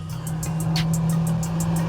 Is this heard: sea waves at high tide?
no